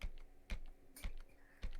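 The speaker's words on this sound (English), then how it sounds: "I just hear you tapping notes." Keys tapping on a computer keyboard in a podcast room, irregular light clicks with a few heavier presses, faint and close, no talk over it.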